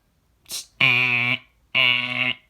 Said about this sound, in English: I'm gonna pull the fire alarm